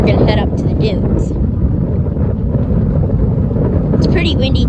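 Strong southwest wind blowing at a national park beach on Ocracoke, a loud, constant roaring rumble buffeting the microphone, with faint hissy bursts of surf or sand.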